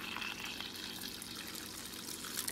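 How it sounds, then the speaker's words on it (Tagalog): Warm water poured into a bowl for homemade bread dough, a steady soft trickle and splash running continuously at low level, close by. "So, ibubuhos na natin yung warm water,"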